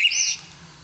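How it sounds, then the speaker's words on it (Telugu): Bird chirping sound effect, a single short bright chirp heard alone, clear and near, then quickly fading. "అంటే పక్షుల సౌండ్"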